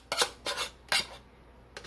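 A utensil scrapes and knocks through a bowl of stuffed pepper filling as cooked white rice is mixed in, four short clinking strokes spaced about half a second apart.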